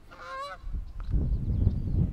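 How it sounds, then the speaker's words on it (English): Geese flying overhead give a brief burst of honking, followed by a low rumbling wind-like background. "How do you exist in that level of noise? And why do you have to do it while you fly? Just fly silently. Geese."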